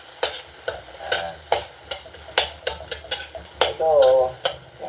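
Paella cooking in a large pan, crackling with a steady sizzle punctuated by sharp clinks and scrapes of stirring at a regular rhythm, close and fairly quiet, with a short hum of voice near the end.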